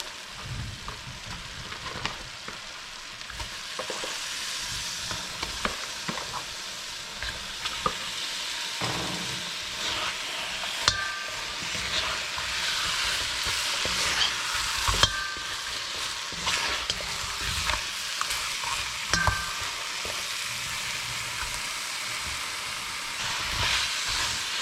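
Hassar fish frying in curry paste in a pot, with steady sizzling and hissing while a spoon stirs and scrapes through it, producing close, irregular clatters and bumps.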